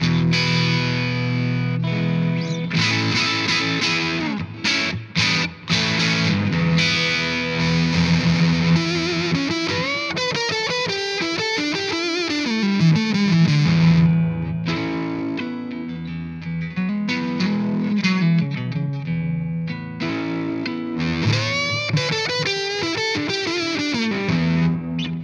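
An electric guitar runs through EWS Fuzzy Drive and Brute Drive pedals, playing loud, continuous distorted chords and single-note lines with sustained, gritty fuzz and shifting tones, heard alone without speech.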